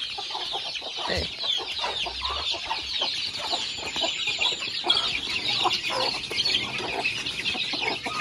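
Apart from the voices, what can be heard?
chicks and chickens clucking on a farm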